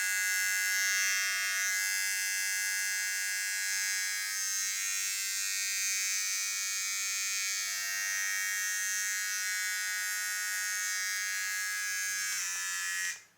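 A Kemei cordless T9 hair trimmer whirs steadily with a high, thin buzz for over twelve seconds, then abruptly switches off.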